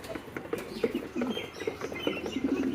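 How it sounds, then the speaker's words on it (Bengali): Pigeons flapping and cooing in alarm as another bird attacks them, soft wingbeats and brief chirps at close range over a quiet background. "এটা কবুতরকে মারতেছে, আমার কবুতরকে মারতেছে"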